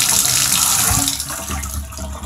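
Shower water with low pressure runs from a showerhead in a narrow stall, a steady, close hiss of spray that eases slightly toward the end.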